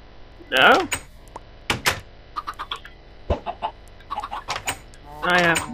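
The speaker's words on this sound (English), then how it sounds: "Let's make some more chickens." Video game chickens cluck in short, choppy bursts, with a couple of louder squawks at the start and end.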